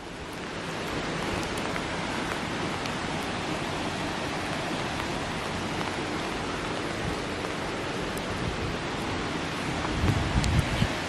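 Waterfalls at St Nectan's Glen, a steady broadband rush of falling water that stays constant and fairly loud throughout, with a slight rustle near the end.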